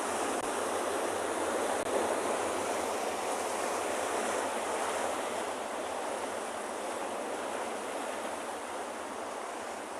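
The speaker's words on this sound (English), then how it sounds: "the sea is very loud today. The waves are crashing." Steady roar of ocean surf crashing on rocks by a penguin beach, a dense, echoey wash of water noise with wind, no voices.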